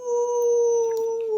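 A long, steady coyote-style howl, apparently a human voice imitating the animal for a children's tale, held as one sustained tone up close and loud throughout.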